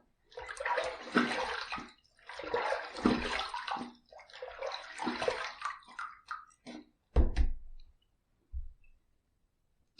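Running water rinses a face after a razor shave, in several splashing bursts of a second or two each, close by, followed by a few clicks and thumps as the water stops.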